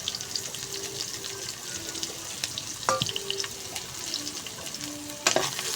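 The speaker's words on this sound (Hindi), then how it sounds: "अब इसको हल्का सा फ्राई करेंगे," Chopped onion frying in ghee for a dahi baingan masala, a continuous close sizzle broken by stirring scrapes and a few utensil clinks, with a faint watery hiss underneath and no voices.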